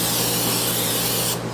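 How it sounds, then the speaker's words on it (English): Cooking spray hisses into a 9x13 baking pan in one continuous, loud, close burst that cuts off sharply near the end, with no talking. "I'm gonna do another 9x13 with some cooking spray."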